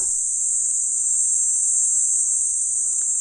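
Bees near a hive on a mountain hum as a steady, high, continuous drone that holds at even loudness for the whole stretch, close by, with no talking.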